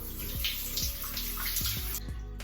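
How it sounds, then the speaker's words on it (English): Water runs steadily from a shower or faucet while curly hair is rinsed out, a continuous splashing hiss with a few soft low thumps mixed in, close and alone. "After 3 minutes, I will rinse everything out."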